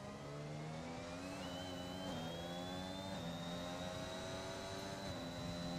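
An AlphaTauri Formula 1 car engine in a racing video game, in a Netherlands Grand Prix league race, whines steadily at high revs, its pitch stepping up through several gear changes at a moderate, even level.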